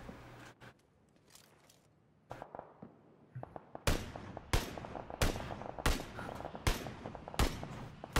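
Gunfire in the shooter game PlayerUnknown's Battlegrounds: sharp, separate shots crack out, sparse and softer at first, then louder and spaced at roughly regular intervals, each with a short echoing tail.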